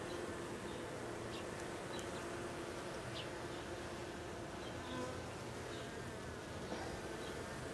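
Honey bees buzz as a dense, steady hum throughout a beehive inspection, constant and close, with no talk.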